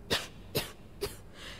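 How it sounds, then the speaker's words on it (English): A character in the video game Starfield coughs three times in quick, evenly spaced, close bursts, each harsh and breathy, with the last one weaker. "That cough doesn't sound good at all."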